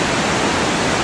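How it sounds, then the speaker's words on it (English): Loud, steady roar of an Alaskan waterfall, a dense continuous rush with no breaks. "This is the waterfall you hear."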